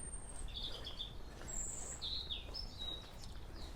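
Morning birds sing in a calm winter setting, a few thin high chirps and short whistled phrases spread apart, faint and distant over a steady low rumble of background noise.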